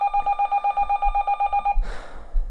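An electronic telephone trills in rapid, evenly pulsed bursts of ringing, loud and close, before cutting off into a brief rustle and clatter as it stops.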